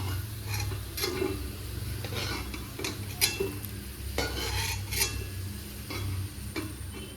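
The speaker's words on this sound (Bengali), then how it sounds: "আলুগুলো সুন্দর করে লাল লাল করে ভাজা হয়ে গেছে।" Potatoes fry in oil with a soft, continuous sizzle while a utensil stirs them, its scraping taps and knocks recurring irregularly at close range.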